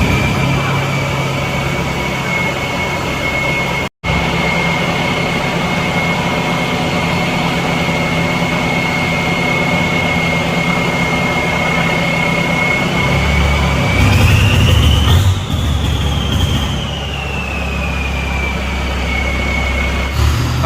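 A KBZ truck with reinforced leaf-spring suspension carrying a five-ton load runs with a steady, loud engine drone and a high whine, which rises and surges briefly near the end.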